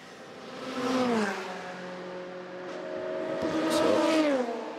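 A Le Mans race car at the 24 Hours of Le Mans 2021 drives a fast lap, its engine note rising and falling through gear changes as a continuous onboard-style whine and roar.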